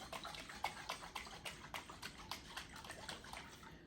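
Water is swished around inside a jar to rinse out gravy while Salisbury steak is made in a Power XL cooker, giving quiet, rhythmic sloshes repeated about a dozen times, with no talking.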